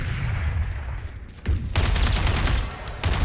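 Rapid bursts of Odin machine gun fire in the shooter game Valorant, loud and close, with a first volley, a short pause, then a longer sustained string of rapid shots and a final burst.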